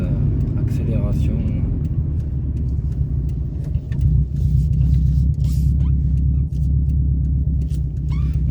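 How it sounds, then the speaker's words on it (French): A Subaru Impreza WRX pulls away under a brief burst of acceleration, its engine a loud, low, throbbing rumble heard from inside the cabin, with someone talking over it. "Là on va s'autoriser une petite accélération."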